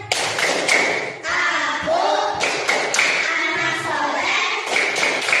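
A group performs the rhythmic Islamic 'tepuk anak soleh' clapping chant, steady close claps and thumps running through chanted voices.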